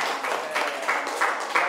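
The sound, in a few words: classroom applause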